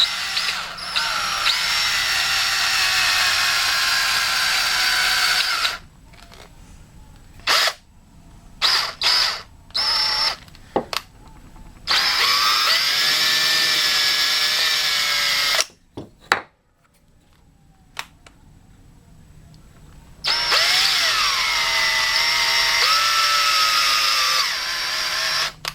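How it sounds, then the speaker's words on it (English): A power drill runs in several whining bursts, its pitch rising and falling, separated by pauses and clicks as a 6-32 tap threads a set-screw hole in a rolling pin sander. "With my 632 tap in the drill, I'll simply tap out the hole."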